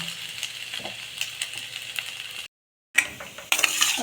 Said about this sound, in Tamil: இன்னும் ஒரு ஃபைவ் மினிட்ஸ் வதக்கிட்டு பார்க்கலாம்